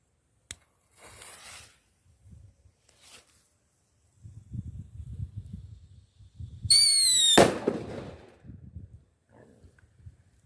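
A Wrestling King Thunder firecracker is lit and goes off: soft rustling and shuffling, then a rising whistle followed at once by a sharp, loud bang and a brief scattered crackle.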